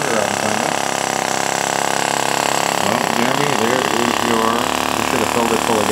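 A small homemade flame sucker vacuum engine runs at a steady fast pace around 2,500 RPM, its rapid even chugging close and continuous for the whole stretch.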